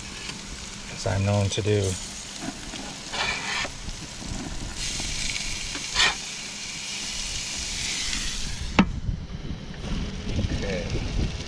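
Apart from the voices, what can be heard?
burgers sizzling on an RV grill after being flipped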